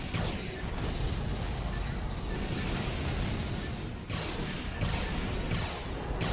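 Missile barrages exploding in Armored Core 4, a continuous loud roar of blasts and crashes with sharper bursts near the end, close and dense with no talk.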